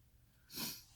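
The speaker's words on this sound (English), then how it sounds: "Oh, I'm going to sneeze." A single short human sneeze bursts out near the middle, a quick breathy blast that rises and fades within half a second against a quiet room.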